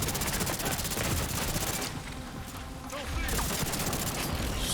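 Heavy gunfire, sniper fire among it, aimed at the player in The Division 2: dense, continuous shooting that eases briefly in the middle before returning at full intensity.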